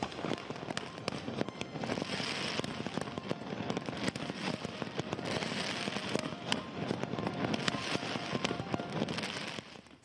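Dense, continuous New Year fireworks over the Chao Phraya River in Bangkok crackle and pop throughout, countless bursts overlapping into a busy, distant-sounding barrage with no pauses.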